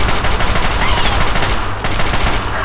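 Rapid gunfire in the video game Fallout 3, a dense continuous rattle of shots, loud and close, with a brief dip partway through.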